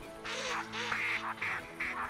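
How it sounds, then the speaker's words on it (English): A mallard duck call sounds in the hunting game TheHunter Classic, a quick run of about five loud, nasal quacks in close succession with no talk. "So we'll probably just use the mallard call here."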